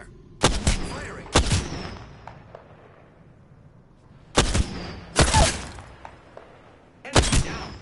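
Gunfire from the battle royale shooter Apex Legends: five sharp, loud shots or short bursts spaced irregularly, each with a brief decaying echo, over quiet game ambience.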